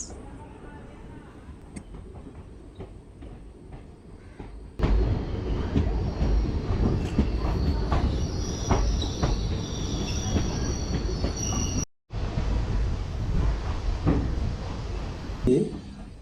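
An express train from Kurnool to Guntur rumbles along with steady wheel noise, rattles and faint squeals, quieter at first, then loud and close after a jump, with a brief break near the end.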